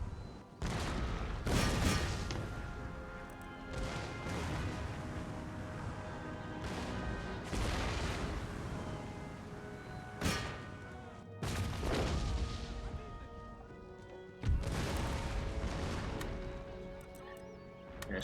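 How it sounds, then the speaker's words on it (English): Howitzer artillery in Empire: Total War fires repeatedly, heavy booms and crashing blasts landing every few seconds over a constant dense roar of battlefield noise, loud and close. "I'm going to tell my artillery to shift fire that way"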